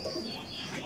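A Shoili pigeon coos softly in a rooftop loft. The brief, steady call is heard close up with no voices.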